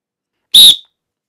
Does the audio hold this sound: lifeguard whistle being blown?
yes